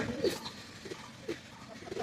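Pigeons coo softly several times in low, throaty bursts, fairly close, with no talking.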